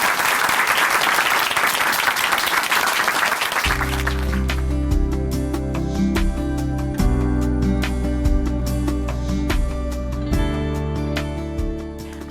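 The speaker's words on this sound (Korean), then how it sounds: "곽희순 자매님 박수로 모십니다." An audience at a Chuncheon church broadcast program bursts into dense, loud applause to welcome a guest speaker. The clapping lasts about four seconds before steady music takes over.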